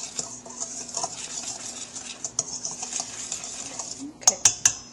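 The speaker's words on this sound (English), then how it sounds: "You can mix these together. Those are the dry ingredients." Sugar, salt and baking powder are stirred together in a bowl, producing soft, steady scraping and light clinks of a utensil against the bowl, with a few sharper taps near the end.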